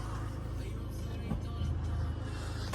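A van-type bus engine runs steadily close by, a low constant rumble with a slight rise in revs partway through as the vehicle edges forward.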